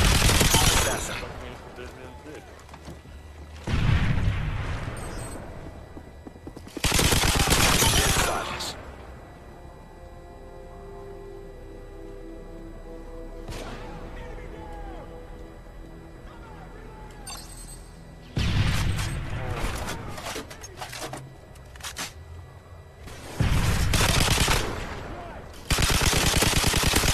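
An unsilenced M60 machine gun fires in a video game, loud bursts of automatic fire coming in several separate volleys with quieter gaps between them, while people talk over it.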